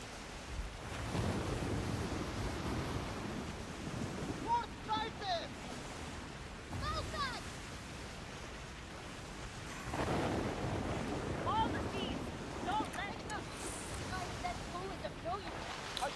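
A ship sails across ocean waves in the video game Skull and Bones, with a steady wash of surf and wind rushing throughout, swelling and easing in places, while a voice talks over it.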